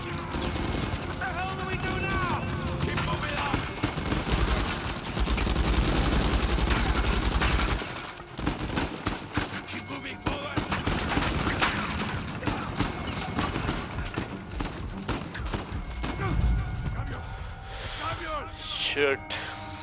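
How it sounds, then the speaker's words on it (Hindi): Machine gun fire in Uncharted 4: A Thief's End, dense rattling bursts and scattered gunshots through most of the stretch, with voices talking over the battle. "वो बस मशीन गन चल रही है, तोड़ देती है दूसरी चीजें"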